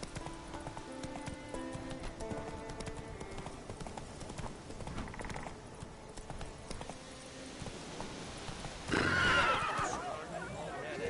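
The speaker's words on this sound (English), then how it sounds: "Run, Roach." In The Witcher 3, a horse's hooves clip-clop at a gallop under a spoken voice, then a loud neigh rings out near the end.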